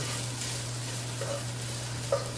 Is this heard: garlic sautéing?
yes